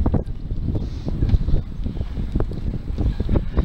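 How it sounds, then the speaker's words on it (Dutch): Near-gale wind gusting hard against the microphone, producing loud irregular low-pitched buffeting bursts that rise and fall continuously. "En het waait een halve storm."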